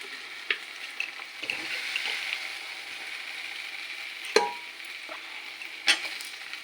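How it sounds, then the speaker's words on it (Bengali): Braised mutton curry being scraped and poured from a pan into a pressure cooker, with a soft steady sizzle and three sharp metal clanks spread across the pour. "এই যে দেখেন সব মটন আমি কুকারে ঢেলে দিয়েছি"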